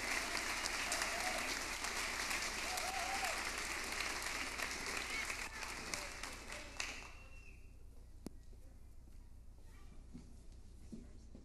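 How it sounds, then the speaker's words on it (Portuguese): Dense audience applause at a youth symphonic band concert fills the room loudly for about seven seconds, then breaks off, leaving quiet room tone with a few stray claps. "Vamos aplaudir Porto Feliz?"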